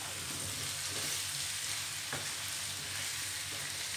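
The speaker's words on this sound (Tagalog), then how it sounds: "ilagay na natin ang ating kalabasa at talong. Ayan, paghaluin na natin." Squash and eggplant stirred in a pan for ginataang talbos ng kamote, with a steady soft sizzle and a few faint scrapes of a spoon against the pan, close and without talk.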